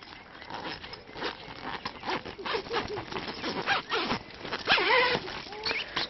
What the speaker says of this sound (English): Excuse me while I undo the zip.